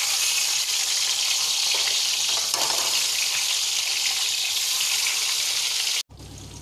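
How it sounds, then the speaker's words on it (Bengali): Eggs coated in salt and turmeric fry in oil left over from frying onions, giving a loud, steady, close sizzle and crackle that runs unbroken, then cuts off abruptly near the end. "এবার পেঁয়াজ ভাজার তেলে নুন হলুদ মাখানো ডিমগুলো ভেজে নিচ্ছি"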